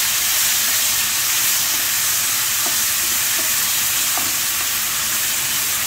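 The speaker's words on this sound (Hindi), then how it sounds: "इस तत्ते तत्ते ऑयल में मुंह पीछे करके चिकन ऐड कर दें और इसको मिक्स करें।" Chicken pieces frying in very hot oil, with a steady close sizzle and hiss filling the whole stretch and a few faint clinks of stirring, no voices.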